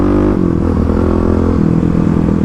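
Kawasaki KLX351 dual-sport motorcycle, 35 hp, on worn stock Dunlop 605 tires, carving through twisty corners; a steady close engine drone with harmonic hum and slight pitch shifts, no talking.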